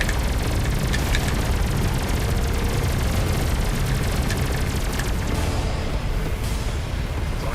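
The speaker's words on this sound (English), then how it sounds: "See how cool the explosions look." Cargo ships blow up in a dense, continuous roar of booms and crackling blasts in the space game Everspace 2, loud and unbroken throughout.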